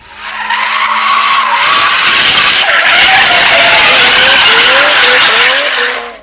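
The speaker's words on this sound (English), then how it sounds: "Here are different sounds of car drifting." Car drifting sound effect: loud, sustained tire squeal and skidding lasting several seconds, with wavering pitch and engine roar underneath, no voices.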